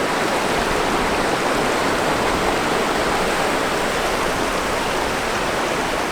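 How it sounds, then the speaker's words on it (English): Whitewater rapids on a wilderness river in Labrador, a loud, steady, unbroken roar of rushing water filling the whole clip with no pauses. "We're coming up on a big set of rapids up here."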